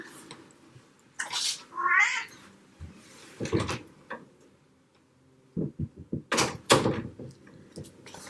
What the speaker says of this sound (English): Oh, TT's knocking on the door to be let out.